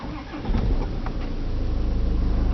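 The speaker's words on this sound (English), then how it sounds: "So we'll just turn on the car." A 2012 Range Rover Evoque starts with a brief crank, then the engine catches and settles into a steady, rumbling idle, close and loud.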